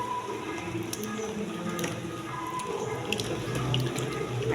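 Freshly picked fruit is swished and washed in water, a continuous close splashing and trickling with small drips and squishes, no talking.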